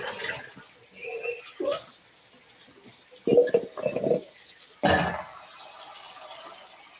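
Tap water runs at a home kitchen sink while tomatoes are washed. It comes in uneven splashing bursts with brief pauses and a steadier stream near the end, close to the microphone.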